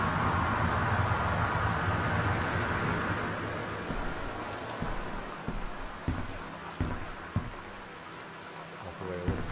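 Steady heavy rain sound effect outside in the video game Gone Home, a dense rushing wash that fades slightly, with a few soft thuds and clicks surfacing toward the end.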